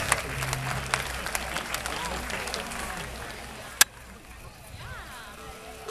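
An outdoor audience at a police search dog agility show applauds and cheers, a steady wash of clapping that fades toward the end, with a voice over a loudspeaker and a sharp knock partway through.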